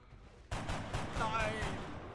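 Enemy alien gunfire in XCOM Long War, a sudden loud burst of several rapid shots with a sharp onset, echoing out amid game ambience.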